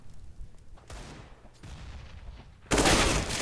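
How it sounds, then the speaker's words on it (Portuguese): Gunfire in a shooter video game during a competitive match, bursts of rapid shots under game noise that end in a loud, sustained blast. "Muito excelente tiro ali de Kraz."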